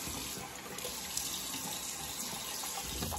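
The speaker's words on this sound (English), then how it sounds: "Go ahead and get my face wet real quick." Water runs steadily from a bathroom tap into a sink as someone wets their face before a shave, a constant close hiss and splash with no voices.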